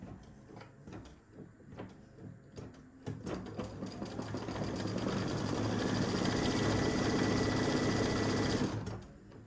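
An embroidery machine stitches out an in-the-hoop mug rug, starting with a few short bursts and then settling into a loud, steady, rapid mechanical whirring hum that runs for several seconds before stopping abruptly.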